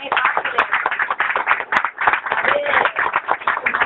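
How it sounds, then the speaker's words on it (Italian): Audience applause for a family performing company, dense continuous clapping from a crowd that holds steady for about four seconds with a few sharper claps cutting through. "Tutti un applauso perché"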